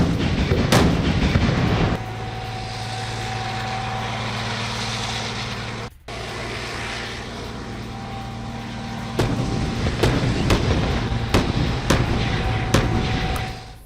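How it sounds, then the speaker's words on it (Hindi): Croatian MLRS rocket artillery firing near the Ukraine border, a sustained loud roar of launches with a low engine-like drone, sharp blasts cutting through around the middle and a string of further bangs toward the end. "देखिए, क्रोएशियाई MLRS से गोलाबारी की गई है।"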